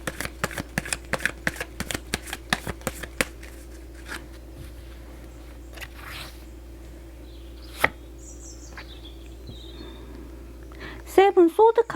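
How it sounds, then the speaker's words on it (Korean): Tarot cards being shuffled up close, a run of sharp riffling snaps followed by quieter handling and a single card slap, ending with a burst of flutter. "조언 카드 한 장 뽑아보도록 하겠습니다"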